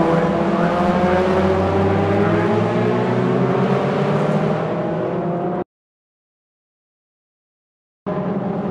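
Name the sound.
Toyota MR2 race cars racing at Brands Hatch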